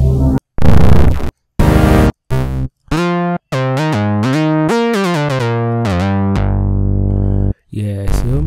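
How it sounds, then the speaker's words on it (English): A synth pad preset from a free VST plugin plays sustained, buzzy chord tones that shift in pitch across short and longer held notes, loud and alone. "So some of the sounds actually have the names, like this as the pad."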